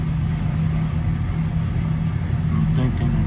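A truck engine revs up with a steady low rumble while unloading machinery at a wall, loud and close throughout, with people talking over it.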